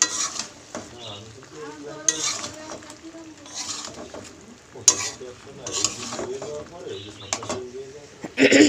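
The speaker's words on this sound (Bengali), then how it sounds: "মাছ বসিয়ে দিয়েছি, মশলা কষাচ্ছি" Spice masala being stir-fried in a pan with fish, potato and flat beans, a spatula scraping in irregular strokes over a soft sizzle, with a voice talking throughout and occasional sharp clinks.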